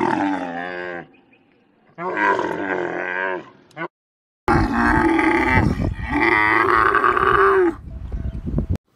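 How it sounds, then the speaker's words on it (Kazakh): A camel bellowing in a series of deep, groaning roars, four loud drawn-out calls with brief pauses, heard close up and alone. "Түйе боздайды."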